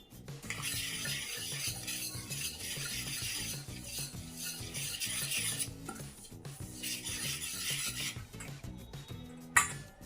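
A spoon stirs curd into a mix of millet and sago flour in a continuous close-up scraping and rasping against the bowl, with one brief clink near the end.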